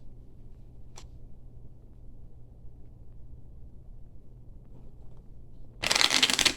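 After near silence with a faint low hum and one tiny tap, a short burst of riffling tarot cards shuffled close by ends the clip.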